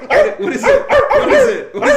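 A person imitates a dog, giving a rapid series of loud, close barks and yips in quick succession.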